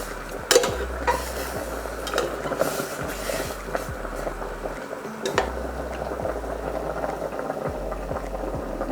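A pot of chicken stock with chili, mint, coriander and salt bubbling on the stove, a continuous busy simmer with periodic low thumps and a couple of clinks, no speech.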